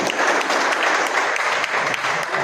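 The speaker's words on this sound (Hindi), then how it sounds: "जोरदार तालियां" Audience clapping loudly and continuously at an award ceremony honouring contributions to education, a dense crowd applause that holds steady for a couple of seconds with no voices over it.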